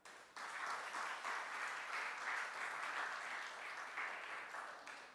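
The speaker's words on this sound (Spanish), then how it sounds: "Dale un aplauso al Señor." Congregation applause in a church service, a dense, steady wash of many hands clapping together that starts abruptly and holds at even strength for several seconds before easing slightly at the end.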